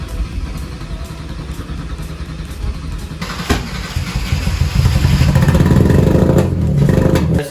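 Mercedes W203 fitted with an M104 inline six engine cranking as it tries to start, a steady churning engine rumble that grows louder and rougher partway through, close and continuous with no talk.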